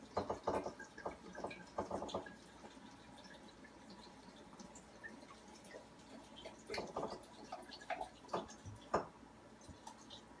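Fire cider tonic poured from a jar into a bottle, with bursts of glugging and dripping liquid separated by quiet pauses, close and fairly faint with no talk.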